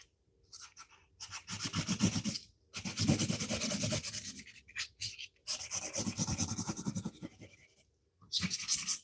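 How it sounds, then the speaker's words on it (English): Hard, raspy scraping of a drawing tool pressed firmly onto a poster, coming in long rubbing strokes separated by short pauses, close and fairly loud. "I feel like I'm drawing on the wall because I'm scraping so hard."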